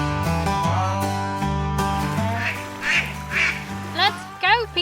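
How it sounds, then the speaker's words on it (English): Stripy ducks quack and flap in algae-speckled water, the quacks coming in short bursts over a bright musical backing. "Blossom clapped her wings at the stripy ducks flapping to and fro in the algae-speckled water"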